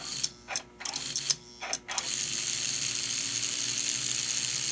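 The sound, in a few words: American Flyer ALCO toy train locomotive motors running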